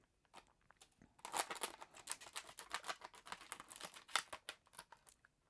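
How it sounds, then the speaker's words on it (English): Scissors snip around the plastic packaging of a PARKSIDE cordless LED light (PALA 2000 A1), a quiet, close series of crisp crunching cuts and crinkles in quick irregular bursts. "So you just cut around it."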